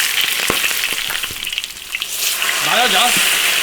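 Ginger and scallions stir-fried in hot oil with melted rock sugar in an iron wok, loud close sizzling with scraping stirs and a brief hum of voice.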